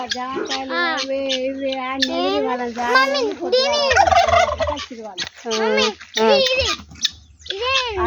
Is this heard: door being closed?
no